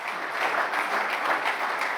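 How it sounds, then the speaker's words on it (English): Applause from an audience at the EHF Champions League group draw ceremony on stage, a dense, steady clapping that holds at an even level throughout with no voices over it. "Round of applause as you come up onto the stage."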